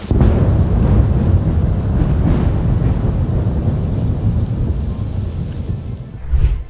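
Heavy thunderstorm with loud rolling thunder over steady pouring rain, a continuous dense rumble throughout and a sharper burst of thunder near the end.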